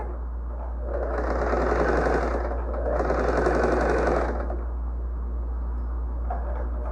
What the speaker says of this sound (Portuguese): E costuro, dou um retrocesso no início, um retrocesso no final.